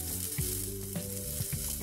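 Chopped onion fries in heated vegetable oil in a pan over medium heat, giving a steady, close sizzle with faint crackles and no voices.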